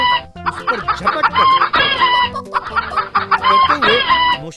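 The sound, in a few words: fighting rooster attacking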